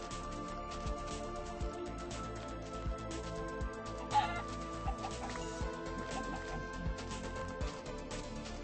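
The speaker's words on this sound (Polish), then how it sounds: "Znowu kurczaki" Chickens cluck in the Minecraft video game, soft repeated game sound effects over a steady background of in-game ambience and music, with no talking.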